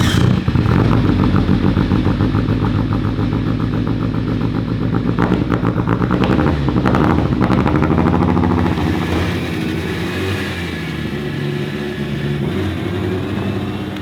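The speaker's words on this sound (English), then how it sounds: "You guys ready for an Evo wagon startup?" A Mitsubishi Evo wagon engine cranks and fires up, then settles into a loud, rough, steady idle nearby with rhythmic clattering pulses and a slight drop in level toward the end.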